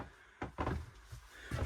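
A cabinet drawer on a 2007 Silverton 43 Sport Bridge yacht slides and bumps through a few soft knocks and scrapes, close and faint, with no talking.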